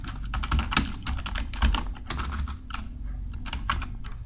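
Steady typing on a computer keyboard while writing text in Microsoft Word, a dense run of close, crisp key clicks with brief gaps, no voice over it.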